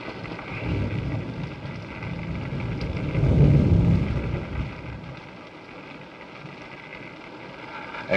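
Steady rain hisses through a stormy film scene, with a deep low rumble of thunder swelling in the middle and fading into continuous rainfall.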